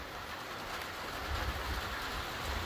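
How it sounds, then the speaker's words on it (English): Rain pattering steadily on a chicken coop roof, a constant hiss with low drumming underneath and no talking. "it's raining out right now, as you can hear on the roof"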